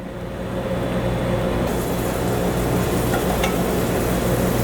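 Olive oil with onion and garlic sizzles in a pan, a steady, close frying hiss that builds slightly and brightens partway through, with no voices.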